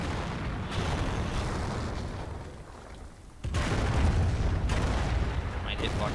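An artillery barrage in the Company of Heroes strategy game, rumbling booms and blasts rolling under loud battle noise, easing off briefly before a heavier wave of explosions comes in.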